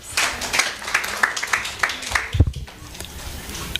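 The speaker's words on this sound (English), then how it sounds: "Can you clap for yourself?" Workshop participants clapping for themselves, a scattered round of hand claps with distinct individual slaps close by, a louder thump midway, and the applause thinning out toward the end.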